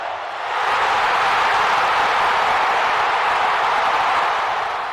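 A stadium crowd at a Kansas City Chiefs football game roars in a dense, sustained wash of cheering that swells in the first moment and then holds steady and loud.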